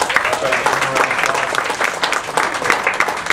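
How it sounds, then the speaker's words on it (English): Audience applause for medal honorees at a health awareness event, a dense burst of many hands clapping close and loud, steady throughout with no talk over it. "So just give them a round of applause when we call their name."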